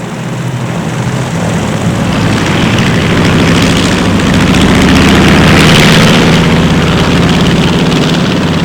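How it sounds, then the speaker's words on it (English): Japanese propeller warplanes on aircraft carrier decks rev their engines in a loud, dense roar that swells gradually and holds heavy and steady. "Japanese warplanes were revving up for takeoffs from the decks of carriers"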